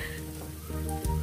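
Onion, garlic and ginger fry in a hot pan, giving a steady, close sizzle with a few small crackles and a brief louder spit near the end.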